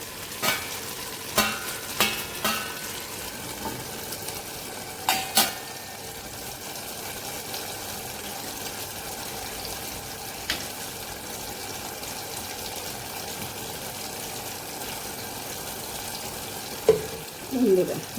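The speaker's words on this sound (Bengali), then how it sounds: "আমি এটা এখন একটু ঢাকা দিয়ে আমটা সিদ্ধ হতে দেবো।" Spicy mango pickle cooking covered in a pan over low heat, a faint steady sizzle and bubbling with a few sharp clinks of lid or spoon early on and a brief rustle at the end, with no speech.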